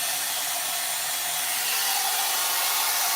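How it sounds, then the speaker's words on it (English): A hair blow dryer runs continuously on high heat, a steady loud whooshing hiss with no talk, growing slightly louder toward the end. "that's why I like the other blow dryer"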